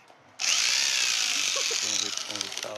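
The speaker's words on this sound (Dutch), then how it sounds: "Dat is het scheerapparaat." An electric sheep-shearing clipper starts suddenly and runs as a loud, steady high buzz close by, while people talk beneath it.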